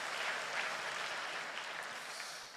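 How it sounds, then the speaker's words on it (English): A church congregation at a Sunday service claps for a newly consecrated bishop, an even wash of many hands that sounds somewhat distant and eases off slightly toward the end. "Let's congratulate him with a hand clap."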